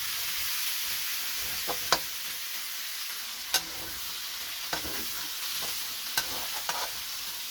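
Ingredients for bihon and canton noodles fry and are stirred in a pan to brown, a steady soft sizzle broken by occasional knocks and scrapes of the utensil.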